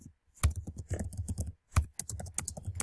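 Fast typing on a computer keyboard while filling in a Google Form, with dense close key clicks in two bursts split by a short pause; nobody talks.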